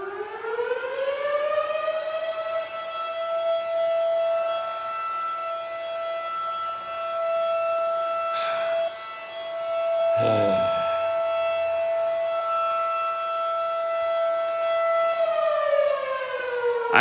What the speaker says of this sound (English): siren. It means there's an accident, a fire, or whatever.